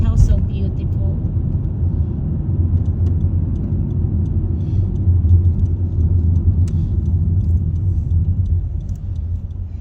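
A car cruises at dusk with a steady low road rumble and engine drone filling the cabin, while someone talks over it.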